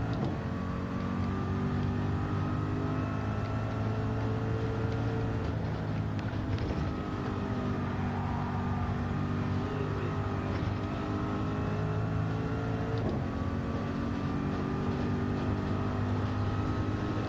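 Ford car engine in Gran Turismo 7, droning steadily at loud, sustained revs with shifting harmonic tones throughout and brief dips in pitch, no voices over it.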